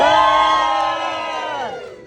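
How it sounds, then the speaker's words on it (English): Voices on a cruise ship to Alaska rise in a loud, drawn-out cheering whoop that holds and then slides downward, fading over about two seconds. "This is the part where you cheer."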